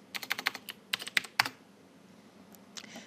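Quick bursts of computer keyboard typing, a dozen or so sharp clacks in uneven clusters during the first second and a half, then near silence with a couple of faint taps at the end.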